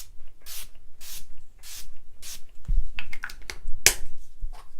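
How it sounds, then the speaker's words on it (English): Four short hissing sprays of setting spray onto a face in an even rhythm, followed by a few soft taps and rubbing sounds of a beauty sponge close to the microphone. "I'm gonna go ahead and spray my face"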